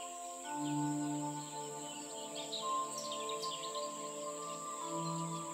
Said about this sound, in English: you can also hear the birds singing as they too call out to each other.